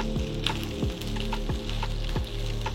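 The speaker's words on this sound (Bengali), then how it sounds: "এবার আমরা পটলটা ভাজবো" Pointed gourd (potol) frying in oil, a steady close sizzle with regular scraping strokes from stirring roughly every two-thirds of a second.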